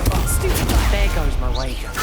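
A Confringo blasting curse goes off in a video game, a dense burst of crackling, booming impact filling the short moment at close range with a shouted voice over it.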